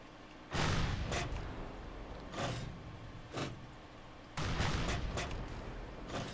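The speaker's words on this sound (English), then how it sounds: "that's all cannons to bear" Warship cannons in the naval combat game From The Depths fire in heavy booming salvos, about five loud blasts spaced unevenly, each with a rumbling tail, under a steady low background.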